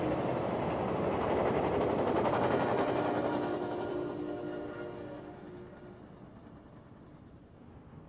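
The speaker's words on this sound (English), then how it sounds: "Emerging from the early morning fog is Amtrak San Diego number 573. It's about to cross the bridge spanning San Elijo Lagoon." An Amtrak San Diego passenger train crosses the bridge over San Elijo Lagoon in early morning fog, a broad rumbling roar that swells over the first few seconds and then slowly fades as it rolls away.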